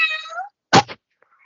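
A person's voice imitates a cat's meow during a children's online class, one short loud meow-like call with a falling tail, standing alone after a brief stretch of talk.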